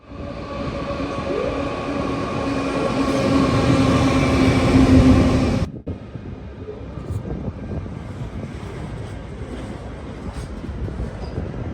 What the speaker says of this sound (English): it looks like there's a V line about to come through